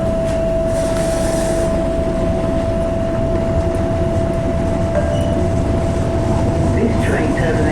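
A passenger train runs between stations toward South Shields, its steady rumble and wheel noise filling the carriage with a constant tone, while an onboard announcement plays.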